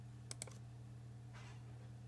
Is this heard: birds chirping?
no